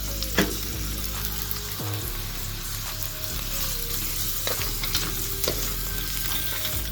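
Steady sizzling of onions and meat frying in a pan, with occasional clinks and scrapes of stirring, close and continuous with no talking.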